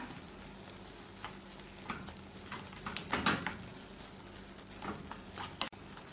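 Spice powders (coriander, pepper, garam masala) stirred and sautéed in a pan for mushroom masala, a quiet steady sizzle with occasional soft scraping strokes of the spoon, no talk.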